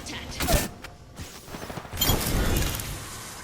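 Gunfire in the video game Apex Legends, bursts of shots with mechanical clatter and a loud, dense rumble over a few seconds, mixed with faint voice.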